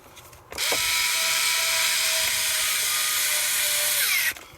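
Powered screwdriver working on a screw in an Xbox One X console during a restoration, a steady close whirring drone lasting about four seconds with abrupt start and stop, no talking.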